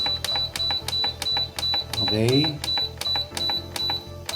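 A cooker's control panel gives a string of short, sharp electronic beeps as a 15-minute timer is set, evenly spaced about every third of a second and close by, while a person says a single word partway through.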